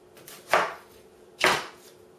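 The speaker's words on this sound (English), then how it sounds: "we need to cut the onions and mince them" Onions being cut with a knife in a home kitchen while making Syrian rice and lentils: two separate crisp chopping strokes, close and fairly loud, about a second apart with quiet between.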